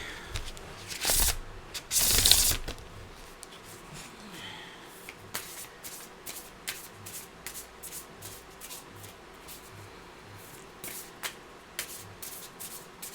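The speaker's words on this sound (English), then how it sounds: "Okay, I'm going to have to shuffle it this way." A deck of playing cards is shuffled by hand in a quiet room, with a louder riffle burst near the start followed by lighter, intermittent flicks and taps of cards.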